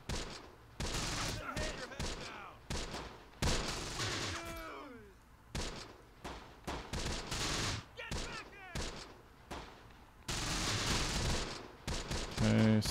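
Gunfire in the World War II video game Close Combat: The Bloody First on D-Day at Omaha Beach, with loud bursts of rifle and machine-gun fusillades, whizzing tones and brief gaps, dense and continuous.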